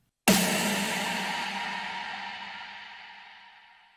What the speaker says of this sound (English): I did want to have some kind of big impact before the main chorus